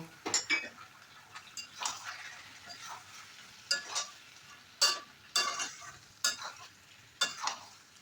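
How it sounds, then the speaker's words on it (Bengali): Spice paste for chicken curry is stirred and fried in a pan, with repeated metal spoon scrapes and clinks over a soft, steady sizzle, close and fairly quiet. "এবার আমি খুব ভালো করে কষিয়ে নেব"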